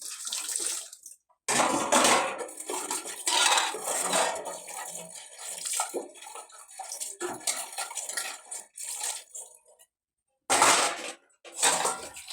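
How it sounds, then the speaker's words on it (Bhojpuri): Pots, pans and utensils are washed at a village home kitchen, with running water, clattering metal dishes and scrubbing in steady, close bursts broken by brief pauses. "1 मिनट ना लगल, बहुत सारा बर्तन अपन धो लेने।"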